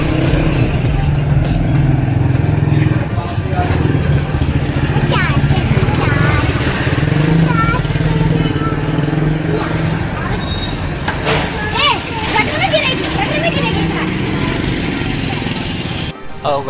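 Busy street traffic near a Karachi hotel rumbles nonstop with engine drone, passing motorbikes and vehicles, while people talk loudly over the din close by.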